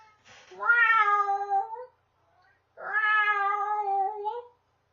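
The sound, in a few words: cat meowing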